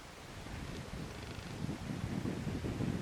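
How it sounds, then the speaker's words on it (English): Steady wind blows across a beach near rocks, a constant rushing roar buffeting the microphone and swelling slightly louder toward the end, with no other sounds standing out. "it's very windy here"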